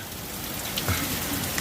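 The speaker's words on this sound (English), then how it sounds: "it's gonna fucking rain" Rain falls over a hay field during a New Holland BR780 baling and crop check, producing a soft, steady hiss of drops with a few faint taps.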